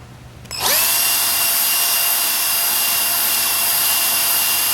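After a brief quiet moment, a drill spins up sharply and holds a loud, steady high whine while reaming a hole in the plastic case of a Commodore 64.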